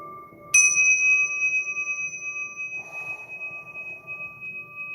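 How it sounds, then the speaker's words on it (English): A bell is struck once with a bright metallic strike, then its clear tones ring on and slowly fade, with a second softer ring joining midway. "Striking bells."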